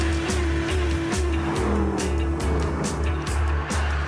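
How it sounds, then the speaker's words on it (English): A Mercedes AMG CLK 63 Black Series drives hard, its loud, close engine note rising and falling through gear changes, with touches of tyre noise and no voices. "here it is, the AMG CLK 63 Black Series"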